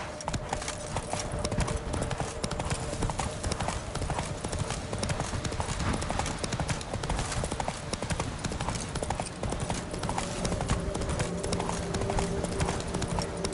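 The horse Roach trots in The Witcher 3, a steady rapid clip-clop of hooves running continuously at an even level over a dense game soundscape.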